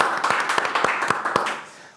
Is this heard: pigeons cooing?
no